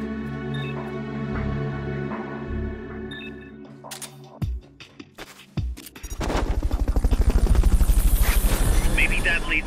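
Metal Gear Solid Peace Walker game audio with a helicopter's rotor thump building to a loud, steady chop, preceded by gunfire-like bursts and a spoken voice.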